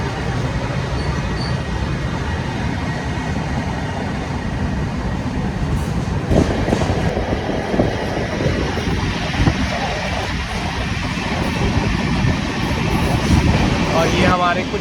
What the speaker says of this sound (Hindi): वही हमें यहाँ पे गुड्स ट्रेन ओवरटेक करके जा रही है भाई